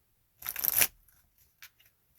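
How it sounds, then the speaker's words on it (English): A deck of cards shuffled once, a quick riffling burst lasting about half a second, followed by a few faint card taps and clicks in near silence. "And then you'd have a deck that you shuffle."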